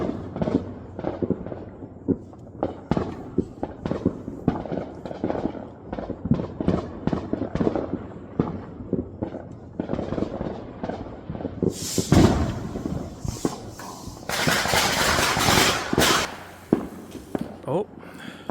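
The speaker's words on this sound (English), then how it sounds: "So the fireworks outside at night, 4th of July" Fireworks crackle and pop outside at night on the Fourth of July in 2024, with a dense stream of distant bangs and a couple of louder, sharper bursts near the end, while a person talks quietly over them.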